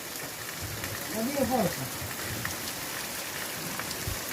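Heavy rain pours steadily in Taperoá, Paraíba, a dense continuous hiss throughout, with a brief voice speaking over it early on.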